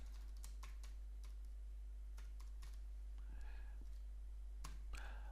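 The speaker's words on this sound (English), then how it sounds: "click inside the article text box and start typing" Quick bursts of typing on a computer keyboard, irregular clicking keystrokes recorded close and quietly, with a faint steady background hum and no voices.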